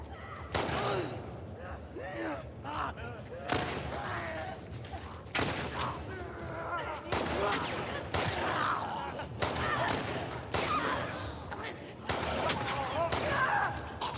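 Repeated gunfire bursts ring out in The Last of Us Part II during combat against Tommy, with sharp shots and short volleys recurring through the scene while a person talks over them.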